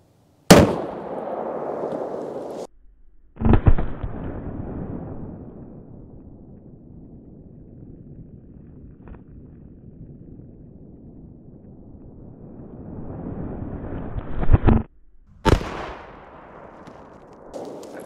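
Gunshots from a Henry Big Boy .357 Magnum revolver: a sharp blast near the start, another a few seconds later, then a long quiet stretch, then two more close together near the end, each with a rumbling decay.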